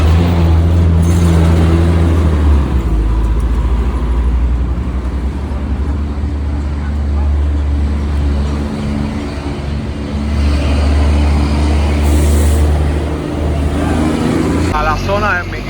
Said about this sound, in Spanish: qué movimiento y qué tráfico de personas y de autos siempre hay en esta zona